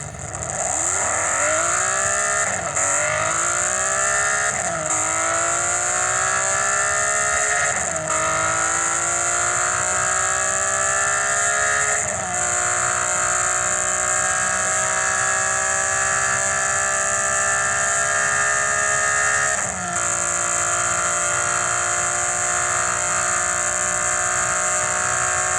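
A simulated car engine from an Android sound app runs up to top speed, with a loud, continuous revving tone that climbs through several gears, each upshift dropping the pitch before it rises again, then holds at a steady high drone.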